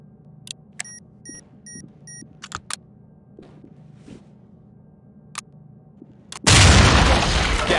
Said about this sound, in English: Breach it with C2.